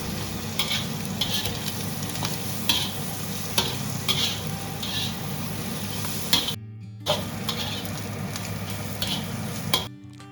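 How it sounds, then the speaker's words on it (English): Mushrooms stir-fried in a wok for Chinese pumpkin rice, a steady close sizzle broken by repeated scraping strokes of a spatula, with two brief quiet gaps. "Then add in the mushrooms and keep stirring for another 5 minutes."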